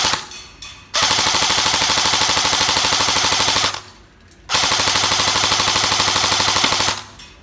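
A new Cyma AK077A airsoft rifle test-fires on full auto in two long, rapid mechanical bursts of buzzing clatter, loud and close, separated by a short pause, with no talking.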